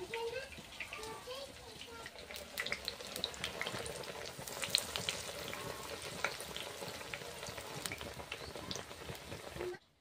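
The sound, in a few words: eggplant fritters (beguni chop) frying in oil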